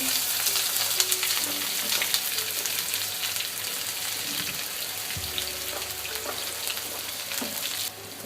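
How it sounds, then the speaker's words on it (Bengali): Onion and garlic sizzle and fry steadily in hot oil in a pan with pumpkin curry ingredients, a dense crackling hiss with occasional stirring scrapes, close and continuous, with no one talking. "পেঁয়াজ আর রসুনগুলো আমি এখন দিয়ে দিচ্ছি।"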